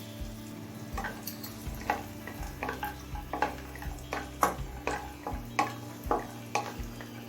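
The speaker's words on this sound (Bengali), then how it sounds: "কিশমিশটা দিয়েও মিনিট দুই ভেজে নিয়েছি" Raisins and nuts fry in oil over a medium flame, with a soft sizzle under repeated rhythmic scrapes and taps of a spoon stirring the pan.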